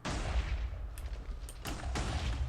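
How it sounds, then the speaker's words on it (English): Heavy booming cannon blasts in a Minecraft wool match, several thuds landing in quick succession over a loud continuous rumble of battle noise. "And the cannon's going off."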